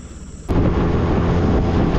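Thunder from an approaching storm over a sandbar: a sudden loud, deep boom breaks in after a quiet start and rolls on as a heavy, sustained rumble to the end.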